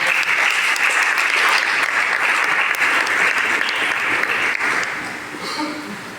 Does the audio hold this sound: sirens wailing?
no